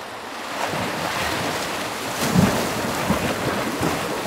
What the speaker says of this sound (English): just listening to the sound of the waves and the eagles calling on the trees.